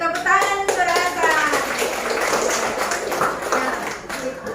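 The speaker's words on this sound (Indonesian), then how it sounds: "tepuk tangan untuk Rasa" A primary school class claps for a classmate during a lesson on buying and selling, a short burst of children's applause mixed with a teacher's voice and kids talking.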